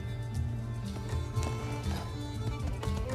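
Horse hooves clip-clop steadily in the video game My Time at Sandrock, a rhythmic clopping over a low game soundscape at moderate loudness.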